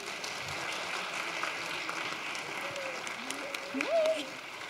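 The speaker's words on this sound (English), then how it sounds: "let's give a round of applause to all of our speakers once again" A TEDx event audience at UC Davis gives a steady round of applause for the speakers, a continuous wash of clapping across the whole stretch, with a voice rising briefly over it near the end.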